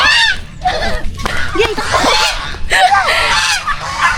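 Ducks honking loudly and repeatedly at close range, a busy overlapping chorus of harsh nasal calls throughout, with no voices.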